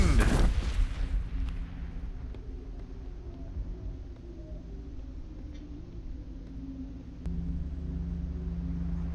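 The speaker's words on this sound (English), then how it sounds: "And the beacon is destroyed." Beacon destroyed in a Mass Effect mission, a loud blast at the start that decays into a long low rumbling tail, followed later by a steady low hum.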